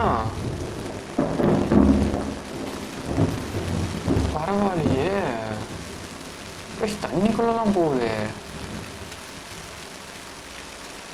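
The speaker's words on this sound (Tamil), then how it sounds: "இவ்வளோ நேரம் இங்கே கேமுக்குள்ளே மழை பெஞ்சிட்டு இருந்துச்சு, இப்போ ரியல் வேல்ல மழை பெய்யுது." Real rain pours down with rumbles of thunder, a steady heavy wash of falling water with low booming swells, while someone talks over it for much of the time.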